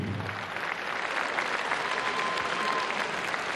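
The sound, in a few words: applause for fighter Aydzhan Sezay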